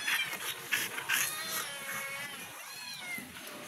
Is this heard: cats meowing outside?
yes